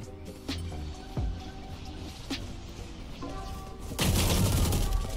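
Gunfire in the tactical shooter Valorant, a few sharp single shots with ringing tones, then a louder sustained burst near the end.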